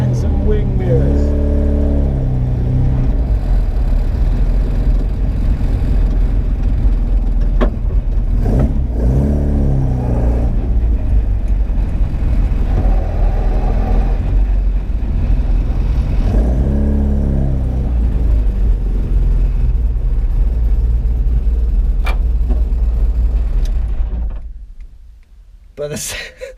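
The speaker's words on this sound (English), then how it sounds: "the sound of that gearbox on the road is just mental" Loud rally car engine and gearbox whine on the road, rising and falling through repeated accelerations, close and continuous, cutting off abruptly at the end; voices occasionally underneath.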